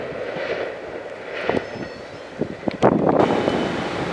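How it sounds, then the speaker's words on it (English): Passenger train 573 with a lounge car rolling past at a Fullerton station, a broad rushing rumble that swells and grows louder toward the end, heard from nearby. "Okay, here's 573 with both the World Cup car and the lounge car acting as a cafe car."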